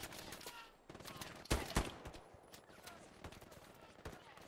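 Machine gun fire during a battle in the video game Hell Let Loose, sharp rattling bursts and scattered shots at varying distance, with a heavier cluster of impacts midway, under a low rumbling battlefield background.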